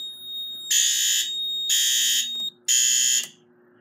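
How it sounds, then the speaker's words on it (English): Home security system smoke detector alarm set off with a speaker magnet during a system test, giving three loud piercing electronic beeps in a rhythmic pattern over a faint steady tone. "we're going to grab a speaker magnet and we're going to demonstrate the smoke detector"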